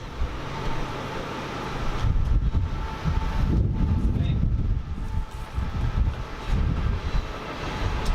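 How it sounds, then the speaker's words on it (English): A train rumbles past in the background with a steady roar and some wind noise on the microphone. "Ignore the train."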